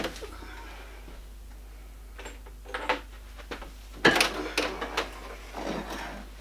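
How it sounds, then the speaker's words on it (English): Limpeaks LMP-M600A slim foldable treadmill being unfolded, with a few scattered clunks and plastic-metal knocks, louder toward the end, over low background hum and no speech. "So I'll fold it out and show you how it becomes a treadmill."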